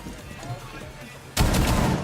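Sudden burst of gunfire from Rainbow Six Siege, a loud close volley erupting after a quieter stretch of room tone and soft game ambience, then sustained for about half a second before easing slightly.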